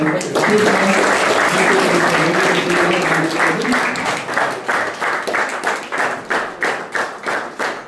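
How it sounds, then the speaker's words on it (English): Students applaud the inauguration of a 10th standard display board at a Rotary Interact Club school event, a loud sustained round of clapping that thins into separate uneven claps toward the end. "I request the students to give a big round of applause"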